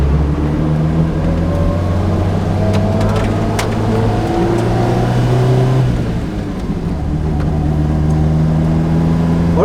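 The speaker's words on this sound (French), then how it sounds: "Je vais vous laisser profiter de la sonorité du moteur." A Lotus Exige S1 engine drones loudly from inside the car as it accelerates, pitch climbing through the gears in steady pulls, with a brief dip between shifts and no voices.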